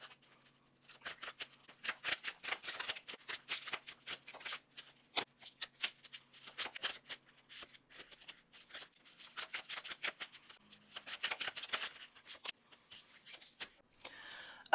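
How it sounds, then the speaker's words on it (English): Tarot cards being shuffled close up, with soft, rapid riffling and flicking in repeated bursts and short pauses in between. "I will speed through the process of shuffling the cards"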